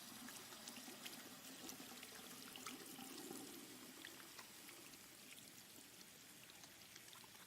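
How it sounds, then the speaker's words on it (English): Water pours steadily into a bathtub in Life is Strange 2, a continuous, quiet rushing stream with faint splashes and trickles, heard alone without voices. "One bubble bath coming up."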